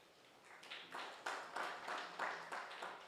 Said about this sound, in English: Let's clap for Paul.